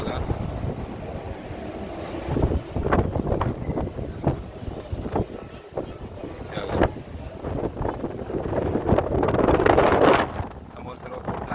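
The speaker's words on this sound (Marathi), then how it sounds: "मस्त असा M2Mचा एक्सपिरियन्स घेतो आहे आम्ही फेरीचा." Strong wind buffets the microphone on the open deck of an M2M ferry crossing from Mumbai to Alibaug, with sea and engine rumble beneath and gusts swelling loudest near the end.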